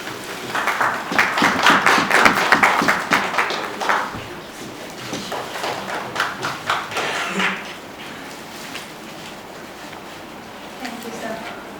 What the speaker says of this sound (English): I invite our advisor, Mr. Saxenaji, to please welcome our panelists with the please applause